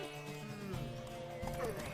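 Horse hooves pound along in a Witcher 3 horse race, steady galloping clip-clop under constant crowd shouting and a neigh, with dense background music.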